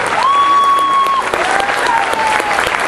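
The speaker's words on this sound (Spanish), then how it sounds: "Yo creo que nos ponemos de pie para aplaudir a un grande." A live audience in Puebla applauds comedian Edgar Rivar in a loud, sustained burst of clapping and crowd noise, with a held tonal whistle or voice rising above it early on and brief voices mixed in.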